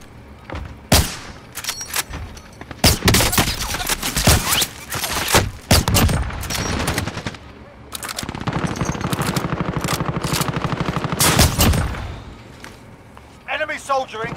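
Bursts of rifle and automatic gunfire in a sniper combat video game, loud sharp cracks and rattling volleys spread across the stretch with heavy thuds, while a player talks over the action.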